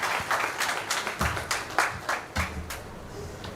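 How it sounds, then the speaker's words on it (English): A seated audience at a live event gives a round of applause for an arriving speaker, with irregular, fairly distinct claps at moderate distance that keep going for several seconds. "Please welcome Dr. Mankurani Goyal with a big round of applause."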